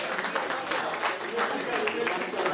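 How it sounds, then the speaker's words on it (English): Sustained applause from a crowd at an alumni chapter gathering, steady broadband clapping filling the whole moment with no pauses, fairly loud and close. "Shailesh Talukdar, a big round of applause."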